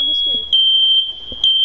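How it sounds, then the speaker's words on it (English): A home smoke alarm shrieks with a continuous high-pitched electronic tone, broken by brief jumps in pitch, while a voice speaks faintly underneath. "My fire alarm's going off."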